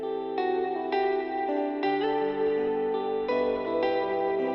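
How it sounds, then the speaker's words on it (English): Electric guitar line with an echo board adding delay, each plucked note ringing into repeating trails under chorus and light grit, steady and upfront with no talking. "We're adding this echo board for some more delay on the top guitar as well."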